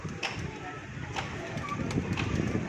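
Soft, low pigeon cooing close by, mixed with light rustling and scattered clicks.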